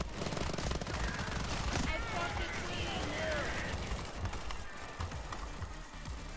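Gunfire in Fear and Greed from a heavy weapon that can only spin and shoot, a steady rapid rattle of shots running under a talking voice, fairly faint throughout.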